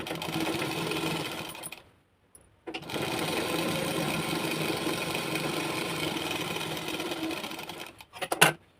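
A sewing machine runs in steady stitching bursts on blouse fabric, laying a line of stitches over the main fabric. It stops briefly twice and then resumes, close and fairly loud, with no talking.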